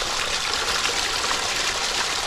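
Rainwater flows steadily through a flooded rice paddy during a downpour, a continuous broad rushing and trickling wash, close and even, with no voices.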